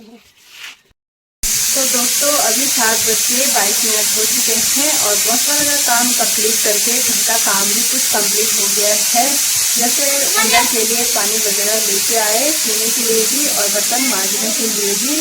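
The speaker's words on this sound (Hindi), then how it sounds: "अभी गैस में कुकर चढ़ाया हुआ है और छोले चने इसमें उबालने के लिए रखा हुआ है।" Pressure cooker on a gas stove, boiling chickpeas, giving a loud, steady steam hiss that runs continuously while a person talks over it nearby.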